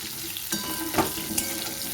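Pointed gourd (potol) pieces fry in hot oil in a kadai, a steady close sizzle with a few soft clunks of stirring.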